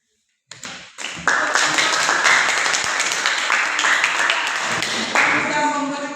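Applause from a group audience after a presentation, a dense burst of many hands clapping that starts abruptly and holds steady and loud for several seconds.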